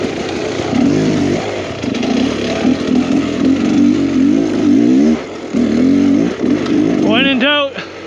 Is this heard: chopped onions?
no